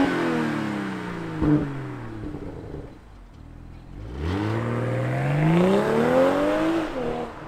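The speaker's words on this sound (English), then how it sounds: "let's fire up this straight six and hear what it sounds like." A 2022 BMW M240i straight-six engine fires up and revs, rising and falling sharply, then climbing in a long rev before dropping back, loud and close with no talking.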